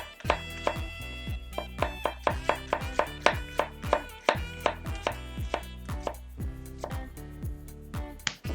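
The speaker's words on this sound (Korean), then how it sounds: "소스에 들어갈 거는 그냥 양파를 얇게 썰어주시면 됩니다" A knife slices an onion thinly on a cutting board, producing a steady run of crisp, close chopping taps that are loud and regular, with no talking.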